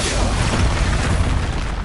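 An Expulso spell detonating in the game Hogwarts Legacy, a loud, rumbling, dense blast that carries on for the whole short clip with no clear break.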